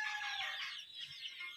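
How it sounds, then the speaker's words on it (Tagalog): Free-roaming backyard chickens give soft clucks and calls, a faint, bright chatter that carries on steadily with no speech. "gumagala-gala po yung mga manok po natin"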